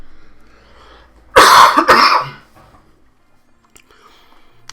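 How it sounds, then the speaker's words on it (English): A person coughs hard twice in quick succession, loud and close, in a quiet room before silence returns. "Have to excuse all the ridiculous coughing."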